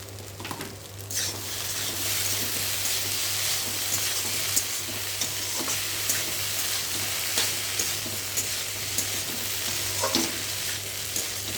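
Pasta sauce with ketchup sizzles and fries steadily in a hot pan, with occasional stirring scrapes and crackles and a low hum underneath.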